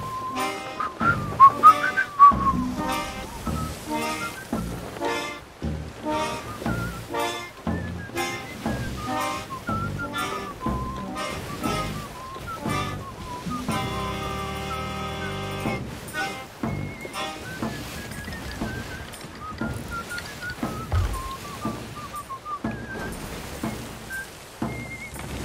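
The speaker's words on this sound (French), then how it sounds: "Ou alors il y a quelqu'un qui siffle." Someone whistles a lively, wandering tune in the pirate video game Sea of Thieves, steady and fairly loud across the whole stretch over faint ocean ambience, with a few brief pauses and a sustained droning chord midway.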